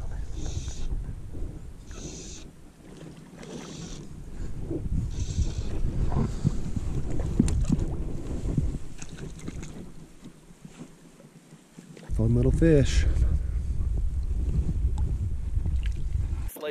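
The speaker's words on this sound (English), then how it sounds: "The wind's picked up. It's probably a little loud" Wind gusts across a lake during a dry fly fishing outing, a steady rushing roar that buffets the microphone. It swells and drops, then grows louder toward the end, and someone speaks briefly.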